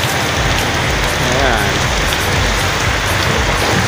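Heavy rain pours under a dark sky, heard from a sheltered spot as a loud, continuous roar of drops on surfaces. A voice speaks briefly over it.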